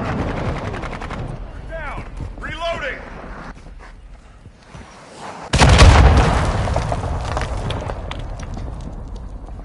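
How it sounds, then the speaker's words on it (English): Mortar strike explosions in a shooter game, a sudden loud blast midway followed by rumbling, preceded by gunfire and a radio voice talking. "Hostile mortar strike near your position."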